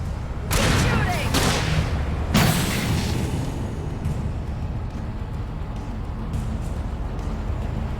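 Video-game gunfire crackles in loud bursts near the start, around one and two and a half seconds, then settles into continuous rumbling combat noise beneath ongoing shouting voices.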